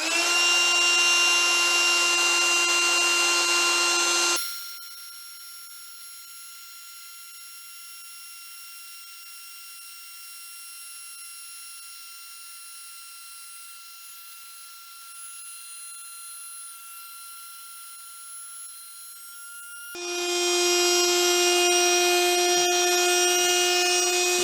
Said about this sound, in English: let's go take a look at how this thing does inflating an air mattress.